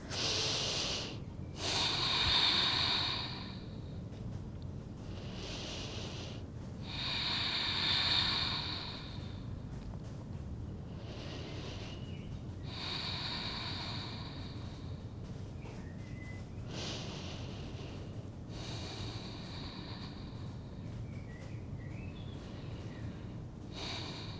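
Steady nasal breathing in and out during a morning hip mobility yoga session, soft rhythmic airy breaths repeating every few seconds, close and fairly quiet, with no talking.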